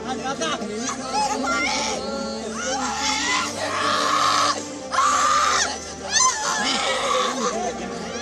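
Grieving family members of a Kashmiri Pandit killed in a militant attack in Shopian scream and wail in anguish. Loud, repeated cries rise over crowd chatter and sobbing, and other voices talk around them.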